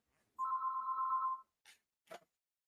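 Telephone ringing in a hotel room, heard as one sustained electronic ring tone lasting about a second, followed by two short faint clicks or bumps in an otherwise quiet room.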